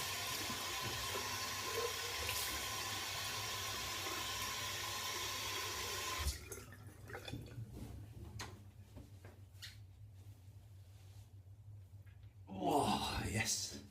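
Cold water runs steadily from a bathroom tap for about six seconds during a head shave, then cuts off, followed by quieter handling noises and a brief splash near the end.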